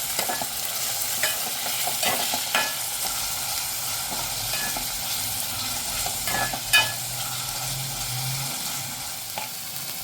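Chopped tomatoes and softened onion sauté in a hot pan, a steady sizzle broken by repeated scraping strokes of a spoon stirring through the mixture, close and clear with no voices.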